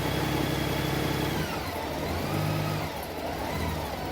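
A Honda Goldwing motorcycle engine revs during warmup, a close, steady mid-pitched drone that eases slightly partway through and then holds, heard alone with no voices.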